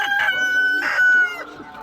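An ornamental golden rooster crows once, loud and close, a drawn-out tonal call with a rising-then-falling shape, followed by a few softer clucks from nearby hens.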